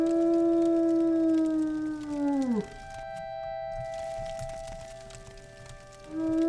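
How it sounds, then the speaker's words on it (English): A werewolf in the video game Morrowind: Bloodmoon lets out one long, loud, sustained howl that slides downward and breaks off, followed by quieter game ambience with faint sounds underneath. "if we interact with people we do a loud howl"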